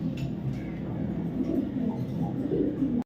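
Big, top-quality maxi racer pigeons give soft, rolling coos nearby over a low murmur, stopping abruptly at the end.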